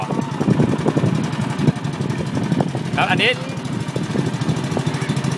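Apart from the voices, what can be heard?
boat engine as the boat turns back to the pier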